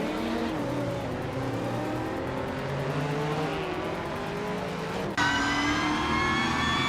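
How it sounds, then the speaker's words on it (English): A 2001 Chevrolet Camaro race car revs steadily at the start of a race, a loud continuous engine drone that jumps abruptly to a brighter, higher-pitched whine near the end. "revving up in a 2001 Chevrolet Camaro and looks like he's ready to make some noise right from the start"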